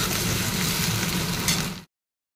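Onions sizzle steadily in a hot pan for prawn do pyaza, a dense, even frying hiss that carries without a break until it cuts off abruptly.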